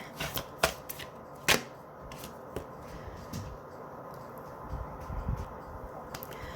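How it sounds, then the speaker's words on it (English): Tarot cards are shuffled by hand in a few crisp riffling bursts and taps, close and fairly quiet, with soft rustling in between. "Sorry, I always forget to shuffle on camera."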